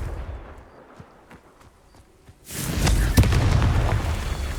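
Explosive blast of the Confringo fire spell in the Hogwarts Legacy video game, a sudden loud burst that rises out of quiet ambience and sustains as a rumbling, crackling roar.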